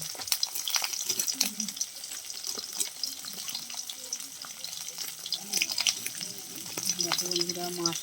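Hilsa fish fry in oil in a pan with a loud, continuous close sizzle and crackle, with sputtering pops throughout and faint voices murmuring in the background.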